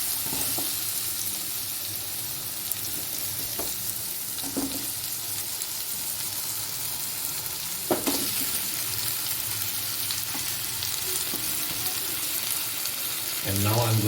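Potatoes frying in a pan for paav wada, a steady close sizzle running throughout with a few stirring knocks and clatters, slightly louder near the end.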